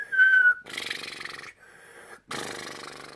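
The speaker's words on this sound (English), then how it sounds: "His nose whistling." A thin, high whistle from a nose on the in-breath, followed by airy breathing sounds, close up, repeating in short bursts.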